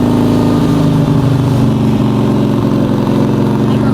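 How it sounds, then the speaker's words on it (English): Harley-Davidson motorcycle engine running steadily and loudly close by with a deep, throbbing, lumpy idle, holding a constant pitch without clear gear changes. "Shift one more time. Now go back down, and remember to leave the throttle."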